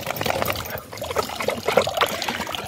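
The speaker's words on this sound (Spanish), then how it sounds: "porque esta agua viene de un tubo" Clean water running out of a pipe in a natural park, a close, uneven trickle and splash that carries on steadily for a few seconds.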